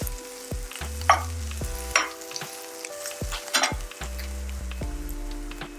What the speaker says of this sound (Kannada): ಹಾಗೆ ಬೆಳ್ಳುಳ್ಳಿ, ಗೋಲ್ಡನ್ ಬ್ರೌನ್ ಆಗೋ ತನಕ ಹುರ್ಕೊಳ್ಬೇಕು.